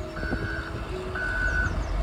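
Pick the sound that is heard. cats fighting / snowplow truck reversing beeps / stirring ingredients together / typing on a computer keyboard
snowplow truck reversing beeps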